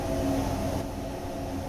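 A Bombardier Traxx locomotive runs in a train simulator, giving off a steady low mechanical drone with a faint whine on top, continuous and fairly loud, easing slightly partway through, with no voices.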